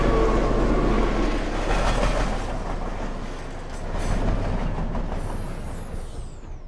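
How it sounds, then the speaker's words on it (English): A real train rumbles past as a sound effect for Boy and the World, with loud, dense wheel and rail noise swelling and fading, a little squeal of the wheels, and no voices. "Here, a real train effect,"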